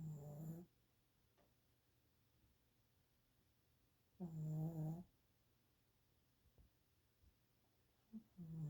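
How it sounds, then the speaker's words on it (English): A pet dog or cat snoring heavily while asleep indoors, with two long, loud snore bursts several seconds apart and a shorter one starting at the end, separated by quiet breathing. "You were snoring, kid."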